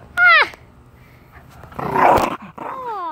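A playful puppy growls and yips outdoors during a game of fetch, with a sharp whiny burst early, a rougher growling stretch in the middle and a rising whine at the end, close to the microphone.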